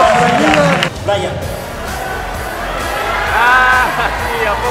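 Convention crowd in Colima cheering, whooping and applauding for Naruto, a loud close mass of shouting voices and scattered claps that swells near the end.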